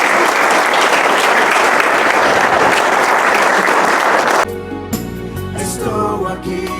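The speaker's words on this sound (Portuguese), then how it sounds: "Salva de palmas para Jesus." A church congregation claps together in praise for Jesus, loud and dense for several seconds before cutting off abruptly into quieter music and tones.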